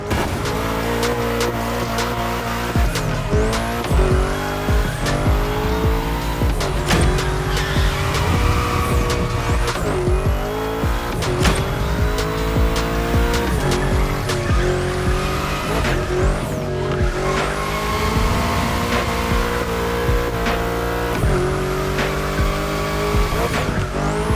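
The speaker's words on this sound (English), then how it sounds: "While you're in a bend, release the throttle, turn the steering wheel to change course, and hit the throttle again." Car cornering in the racing video game The Crew Motorfest, with a steady, loud engine drone and repeated tire squeals rising through each bend, continuous throughout with no talking.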